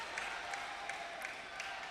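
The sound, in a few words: crowd cheering and applauding for table tennis player Bayley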